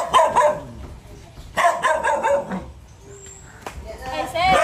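A dog barks in several quick yipping bursts nearby at a house, with people talking around it.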